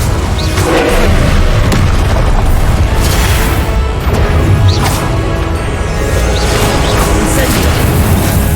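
Confringo explosive spells in Hogwarts Legacy, a string of loud booming blasts and crashing impacts mixed with whooshing spell casts, firing in quick succession amid constant combat noise.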